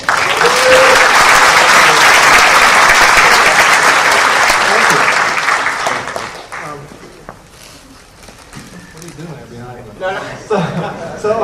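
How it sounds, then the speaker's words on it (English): A conference audience gives loud applause for the roundtable moderator, a full burst of clapping with some cheering that fades out after about six seconds, followed by someone speaking. "Let's give it a round of applause for Guy Kawasaki."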